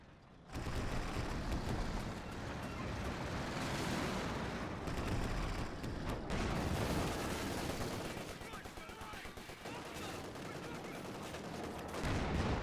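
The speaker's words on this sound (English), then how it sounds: "Nasty shots, I must say, from this Panzer IV" Heavy gunfire and booming tank shots from a Panzer IV in the Company of Heroes 2 strategy game form a dense, continuous battle din, with a commentator's voice talking over the fighting.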